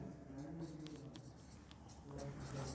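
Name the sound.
writing on paper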